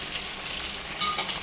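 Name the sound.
vegetables frying in oil tempering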